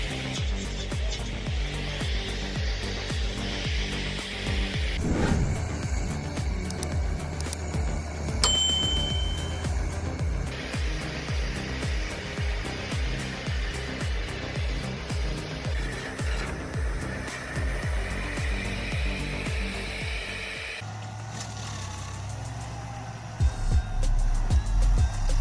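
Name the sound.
Rayco RG80 stump grinder grinding tree stump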